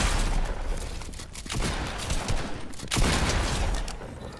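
Grenade launcher fire in Fortnite, a dense barrage of blasts and explosions rolling continuously, loud and close, with heavier bursts near the middle and end.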